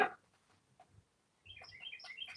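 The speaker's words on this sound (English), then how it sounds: "The birds are singing." Birds chirp and twitter outdoors, faint and somewhat distant, with a cluster of quick high calls in the latter half after a mostly quiet stretch.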